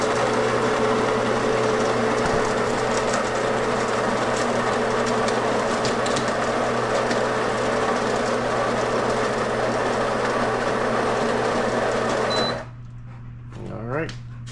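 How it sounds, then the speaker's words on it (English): A Thyme & Table espresso machine's built-in grinder grinds coffee beans with a loud, steady whirring drone that runs for about twelve seconds, then cuts off abruptly, leaving a few faint clicks and rattles. "then I'm gonna grind for 2 of them"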